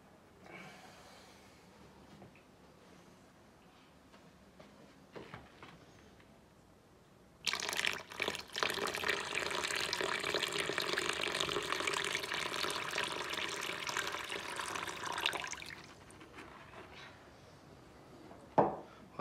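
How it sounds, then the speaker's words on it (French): Aquarium water is poured into a bag holding fish to acclimate them: a quiet room gives way to a sudden, steady splashing pour lasting about eight seconds, then it fades back to near silence. "On va mettre un peu de l'eau de l'aquarium"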